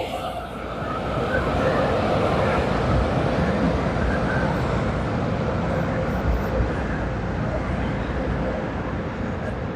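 Car wash machinery running close by, a steady loud roar of spraying water and blowers with a continuous broadband rush that swells quickly and holds throughout.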